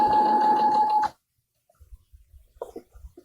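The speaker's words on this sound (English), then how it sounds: "we're just going to do a top stitching" Sewing machine running steadily for about a second as it top stitches around the edge of a fabric bookmark, then it stops abruptly, followed by faint handling noises.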